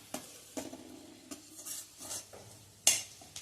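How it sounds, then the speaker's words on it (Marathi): Finely chopped onion being sautéed in oil over a medium gas flame for a kofta curry, with faint sizzling under intermittent spoon stirring and scraping against the pan, plus one sharp metallic clink near the end. "अर्धा कांदा बारीक चिरून घेतला आणि तो आता मी ह्या तेलावर गुलाबीसर परतून घेते"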